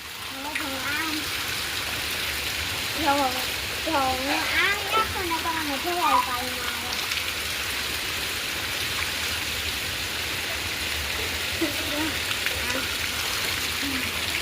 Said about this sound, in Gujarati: મસ્ત કેટલું પાણી ભરાય ગયું અંદર વહી જાય